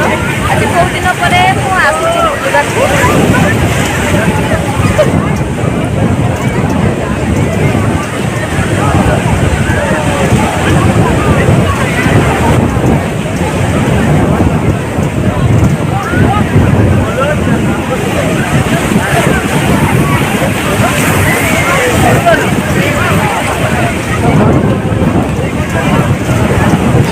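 Strong sea waves surge and break on a beach in heavy wind, a loud continuous roar with rumbling buffets of wind against the microphone and people talking faintly beneath it.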